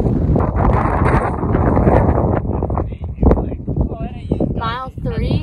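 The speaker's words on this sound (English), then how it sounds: "It's windy" Gusty wind buffeting the microphone on a downhill hiking trail at Cedar Ridge, a loud continuous rumble and rustle under people talking.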